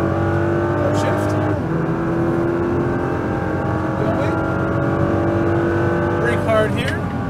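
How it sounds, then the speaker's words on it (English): A Nissan GT-R on a race track accelerates out of a corner with loud, steady in-cabin engine drone, rising and shifting in pitch, while a voice talks over it. "Once you get your apex, accelerate out to the right side."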